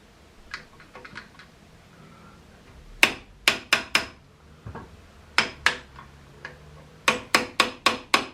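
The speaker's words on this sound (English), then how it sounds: "A hammer. A hammer nips everything." A hammer strikes metal during repair work on an abandoned Ford Capri Calypso engine: sharp, ringing blows come in quick bursts of three to five, loud and close, after a few lighter taps.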